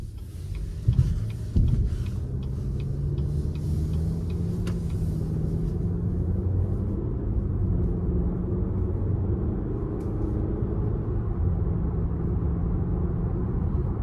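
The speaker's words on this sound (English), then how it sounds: "we're gonna go ahead and take this 2023 Cadillac XT4 Sport out on the road for a quick test drive" A 2023 Cadillac XT4 Sport with a 2-liter engine drives on the road, its steady low engine and road rumble continuous and close throughout, with a few faint ticks near the start and no talking.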